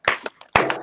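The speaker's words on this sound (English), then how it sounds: "Clap it up, man. Clap it up." A few people clap at a podcast recording, loud close claps in short irregular bursts.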